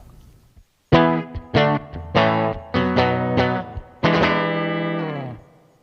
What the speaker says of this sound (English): how simple chords, distortion, and know-how will help you enter the world of rock and roll rhythm